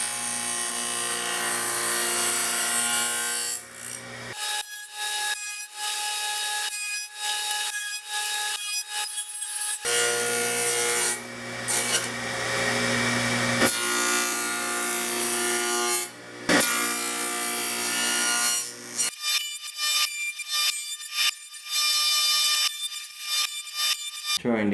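A table saw fitted with a dado stack runs steadily while cutting a thin wooden workpiece for veneer. A loud, close motor whine carries harmonic tones, and the pitch and texture shift as the blade bites and the cut changes.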